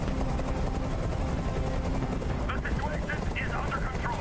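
A helicopter hovers in the Detroit: Become Human video game, a dense, steady rotor roar that fills the whole clip while people talk over it.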